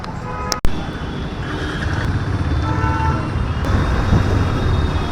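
KTM RC200 and Duke 390 motorcycles riding on a road, one trailing the other: a steady engine drone mixed with wind and road rumble throughout, with a brief sharp knock near the start.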